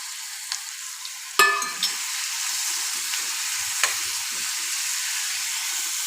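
A spoon stirs raw banana curry frying in oil in a pan, giving a steady hiss with scattered scrapes and clinks over a few seconds.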